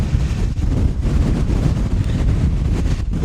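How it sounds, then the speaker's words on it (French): Strong wind buffets a high sea cliff in the Faroe Islands, roaring hard and continuously against the microphone in loud, gusty rumbles. "Il y a un vent de ouf."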